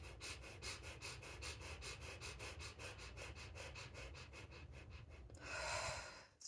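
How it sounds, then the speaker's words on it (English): Rapid, rhythmic panting breaths in an even run of about twenty quick puffs, close and steady, forming a fire-breath breathing exercise that ends in a louder rushing exhale. "This is called the fire breath."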